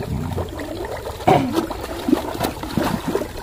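Water draining out of an old pond in the interior of Aceh, a steady trickling, gurgling flow with a few louder splashy surges, heard close and without talk.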